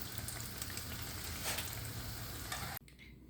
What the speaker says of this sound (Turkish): Şimdi kızgın yağ götürüyoruz arkadaşlar bunu. Kağıdı ile birlikte kızartıyoruz.